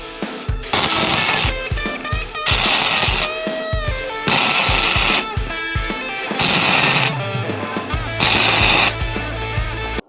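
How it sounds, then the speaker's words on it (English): Spot welding thin steel sheet clamped flat on a base, giving about five loud, regularly spaced bursts of harsh crackling buzz, each lasting roughly a second, with quieter clicks and clatter in the gaps. "we're going to just try spot welding the damn thing"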